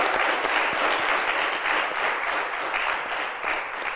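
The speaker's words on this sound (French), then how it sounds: "je veux qu'on lui fasse un tonnerre d'applaudissements à monsieur Dominique Zinklé" A thunderous round of applause from a live audience at a French-language talk show, dense and sustained clapping that stays loud and even throughout, with a crowd wash filling the room.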